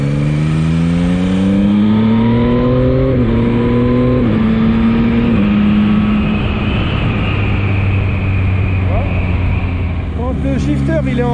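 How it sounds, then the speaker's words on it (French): A 2022 Yamaha MT-09 motorcycle downshifting through the gears, loud and close, each shift marked by a quick automatic throttle blip as the engine note steps, with a rider's voice partly over the engine. "Quand je descends, il y a un petit coup de gaz automatique."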